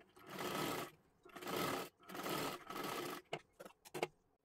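A sewing machine stitches a princess-cut blouse in several close, steady runs about a second long, ending in a few short stop-start bursts.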